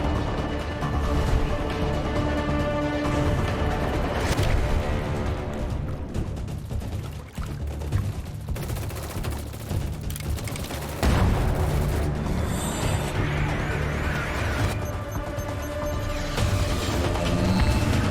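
Enemy gunfire rattles in a Rainbow Six Siege-style shooter game, loud, dense bursts and booms crowding together almost without pause, chaotic and close, with music or effects layered underneath.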